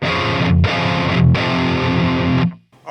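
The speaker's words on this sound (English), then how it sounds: "I can get crunch tones like matching the Orthos here" Thick distorted electric guitar chords played through a KSR Artemis metal amp on a crunch tone, loud and sustained, with two brief stops before ringing out and cutting off.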